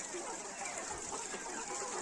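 Lohmann Brown laying hens clucking in a coop, faint soft clucks and murmurs spread through a busy, noisy background with no single call standing out.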